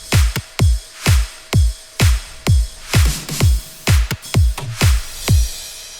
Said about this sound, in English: Then we have some rides coming in.